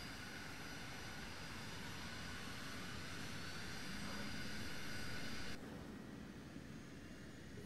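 A jet aircraft engine idling in the video game Arma 3 produces a steady, loud broadband roar with a high whine layered on top, swelling slightly before dropping in level near the end, with no voices.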